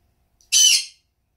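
A single loud, harsh bird squawk close by indoors, about half a second long, standing alone against silence.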